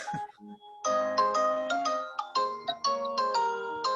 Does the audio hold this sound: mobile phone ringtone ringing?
yes